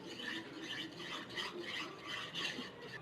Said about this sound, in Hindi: अब इसको अच्छे से मिक्स करेंगे और इसको थोड़ा सा पका लेंगे।